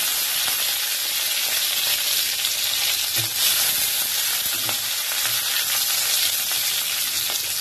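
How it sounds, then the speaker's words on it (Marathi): Finely chopped green chillies, garlic and fresh curry leaves sizzle loudly and evenly in hot oil for a jeera rice tempering, with a constant close hiss, occasional stirring knocks and no talking. "आणि बारीक चिरलेला 2 मिरची टाकलाय आणि ताजा कढीपत्ता"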